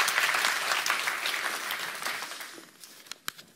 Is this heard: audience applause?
yes